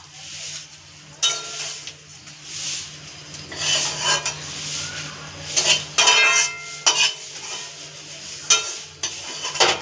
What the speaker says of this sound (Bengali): এবার মশলাগুলোকে ভেজে নেবো সবই তেলেতেই।